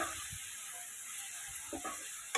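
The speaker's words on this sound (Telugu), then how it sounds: "బాగా కలిపేసి మూత పట్టేసుకుని మగ్గించుకున్నాను." Broad beans curry cooking covered in a pan, a faint steady sizzle and hiss running throughout, with a few soft bubbling pops near the end.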